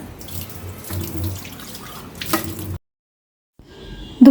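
Tap water running into a sink as a tea cup is rinsed under the faucet, a steady splashing stream that stops abruptly, falls silent, then resumes briefly with a clink.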